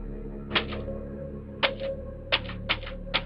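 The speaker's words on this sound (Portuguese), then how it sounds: "Datilografada na máquina da própria família," A family's own manual typewriter strikes five sharp, separate keystrokes at an uneven pace, close and distinct over a low steady background hum.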